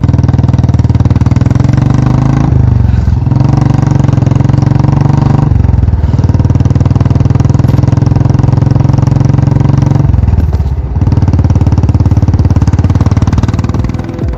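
A Royal Enfield Classic 350 Stormrider motorcycle engine runs close and loud with a steady thumping idle, dipping briefly three times as the throttle shifts, then settling back into the same throb.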